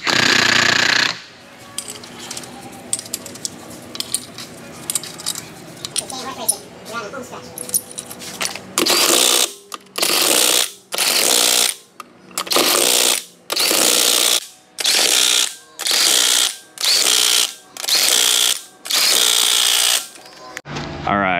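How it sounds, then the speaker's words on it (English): Wheel bolts on a Kia Sedona being run down with a rattling impact tool after brake work, first a long stretch of low rumble and clatter, then about ten loud, evenly spaced hammering bursts, close by with no talk. "Wheels are bolted back on."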